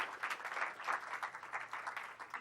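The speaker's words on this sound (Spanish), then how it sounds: "Dale un aplauso" Applause from a church congregation during a sermon, a quiet, steady patter of clapping lasting a couple of seconds with no voices on top.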